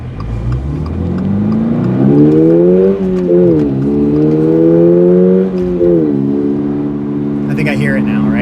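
A Toyota GR86 engine hums steadily while cruising, its pitch rising and dipping with throttle changes and a few gear shifts. The engine sound is close and fairly loud, with a person talking intermittently over it.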